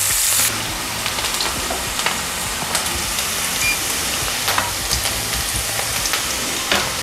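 Onions frying in oil in a pan, a steady close crackling sizzle with scattered sharper pops throughout and no talking.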